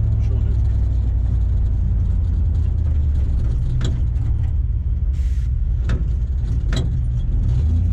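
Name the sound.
1947 Ford with 1UZ VVTi engine driving through gears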